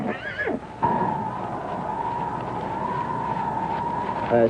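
A horse whinnies loudly at the start, followed by a long steady tonal hum and background noise, with another short whinny at the end.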